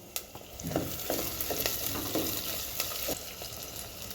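Onion and green chili pieces frying in hot oil, a continuous close sizzle with scattered crackles and light stirring clicks throughout, no speech.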